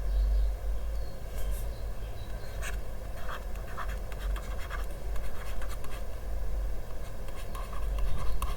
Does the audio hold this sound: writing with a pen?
yes